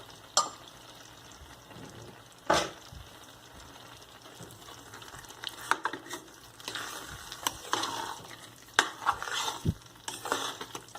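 Carrot halwa with cardamom powder stirred in a pan off the heat, with soft scraping and sizzling and several sharp spoon knocks against the pan at irregular intervals; no talking.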